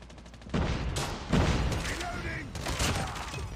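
Bursts of SMG fire in Call of Duty Mobile, sharp loud volleys arriving in a few clusters, with a voice talking over the shooting.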